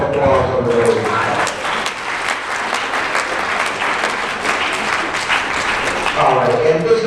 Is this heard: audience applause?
yes